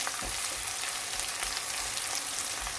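Dried and green chillies stir-fried in a pan with onion and garlic for a soy paneer curry, giving a steady, close sizzle with faint stirring scrapes and no voices.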